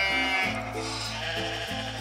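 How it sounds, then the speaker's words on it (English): Sheep bleat inside a barn, a few drawn-out, wavering calls following one another closely at fairly close range, with no talking. "The sheep were in the barn."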